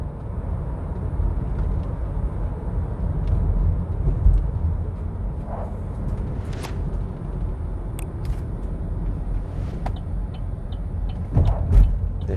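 A Chevrolet Cruze Hatch LTZ 1.8 with automatic transmission pulls away at low speed, its engine giving a steady, moderately loud drone with rising effort and a few light clicks and knocks over the top.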